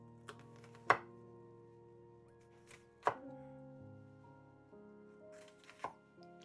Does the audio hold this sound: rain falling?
no